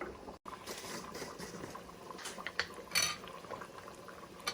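A pot of Nigerian Ofe Owerri soup bubbles and simmers steadily, with soft liquid popping and a few light clinks of a spoon against the pot.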